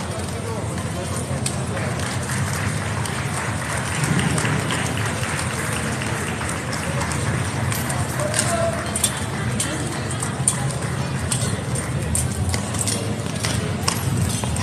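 A King's Guard horse's hooves clip-clop at a walk on a hard surface back toward the stables, a steady irregular patter mixed into crowd and street noise.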